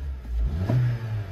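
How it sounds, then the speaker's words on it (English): A 2010 Honda Civic EX engine, built to about 1,000 hp, rumbles low and swells in a brief rev before settling, heard close up. "revs up and runs and drives great."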